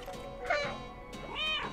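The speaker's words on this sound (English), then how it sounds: "There's a dedicated meow button." A cat meows twice in a video game, triggered by a dedicated meow button; two short, clear mews separated by a brief pause, close and moderately loud.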